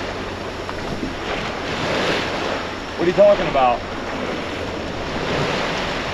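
Ocean waves washing onto a Florida beach, a continuous soft roar of surf with wind buffeting the microphone, while people talk briefly over it.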